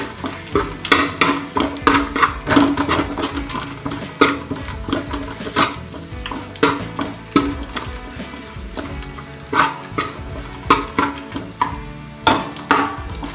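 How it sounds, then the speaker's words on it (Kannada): Cinnamon sticks and cloves fry in a pan for Mangalore-style ghee rice, with close, loud sizzling and frequent irregular scraping and clattering from stirring, and no one speaking. "ಚಕ್ಕೆ ಲವಂಗ ಹಾಕಬೇಕು ಫ್ರೈ ಮಾಡಬೇಕು"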